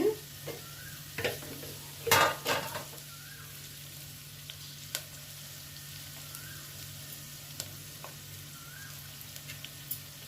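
Onions with a pinch of salt fry quietly in a pan, a soft steady sizzle punctuated by a few loud scraping stirs and clinks early on, then fading to sparse ticks and crackles.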